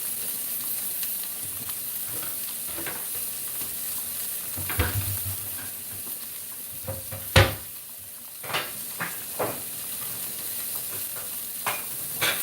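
Vegan spaghetti warming in a pan gives a quiet, steady sizzle, broken by scattered scrapes and clunks as it is stirred now and then.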